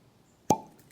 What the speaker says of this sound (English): That was a great cork pop